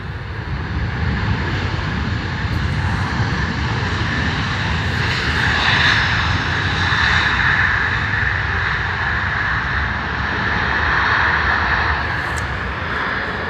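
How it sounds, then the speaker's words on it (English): Aircraft reverse thrust roars during a landing at Stansted Airport, a loud sustained broadband rush that holds steady for over ten seconds with no voices over it. "It's so loud, that reverse thrust."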